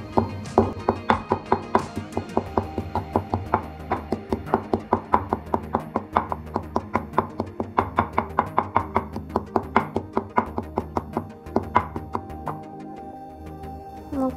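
Goraka (garcinia) pieces are pounded in a mortar with steady, repeated dull thuds, about three or four strokes a second, close and continuing without a break.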